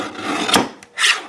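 A card cutter trims a card from a Druid craft deck, making two short, close scraping rasps with a brief gap between them and no voices.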